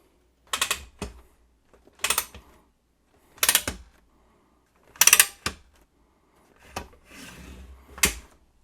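A long-reach, height-adjustable wall-mounted monitor arm clunks and rattles through about six separate close mechanical bursts with quiet gaps between them as it is moved up and down.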